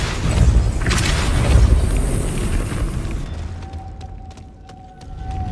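A Depulso spell cast in Hogwarts Legacy on PS4 slim, heard as a loud booming blast with a rumbling burst that fades into quieter game ambience.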